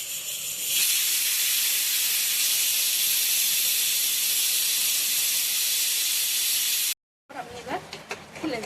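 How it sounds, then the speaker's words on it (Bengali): Steam hisses loudly and steadily from a pressure cooker on the stove while mutton curry cooks, a broad rushing sound that runs for about seven seconds, then cuts off abruptly and gives way to softer kitchen clatter. "এই অবস্থায় আমরা প্রেসার কুকারে কয়েকটা সিটি দিয়ে নেব।"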